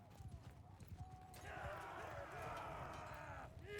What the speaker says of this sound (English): That donkey is still going mad, poor guy.